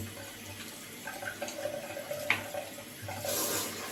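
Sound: washing a shaving bowl with a brush under running water

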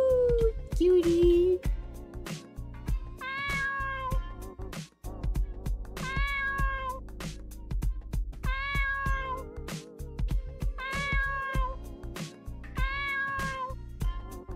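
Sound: cat meowing in the video game Dave the Diver

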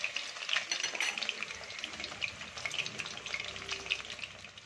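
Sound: marinated chicken deep frying in oil

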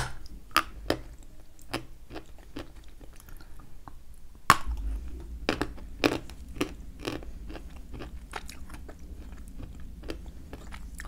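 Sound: crunching a hard Kyrgyz sample while eating

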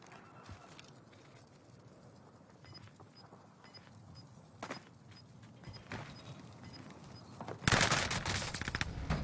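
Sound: gunfire in a video game

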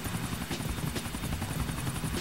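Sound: helicopter flying in the video game Grand Theft Auto IV

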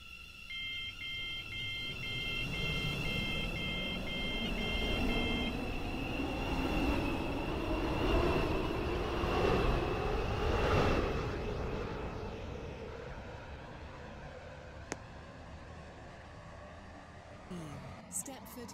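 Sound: train at a station

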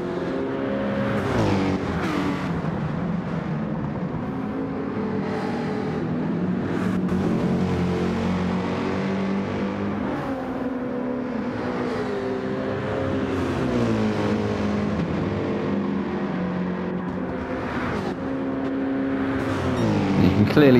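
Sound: AMG race car engine in video game Gran Turismo 7

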